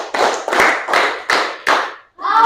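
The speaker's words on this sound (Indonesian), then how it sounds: "Tepuk 1, tepuk 2, tepuk 3." A group claps together in unison in a classroom session, five sharp, loud synchronized claps spaced roughly evenly, followed by a brief voice at the end.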